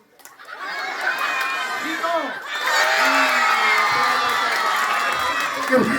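A crowd at a fiesta freestyle contest cheers and shouts, with whoops and excited voices rising after a brief lull and holding loud and steady.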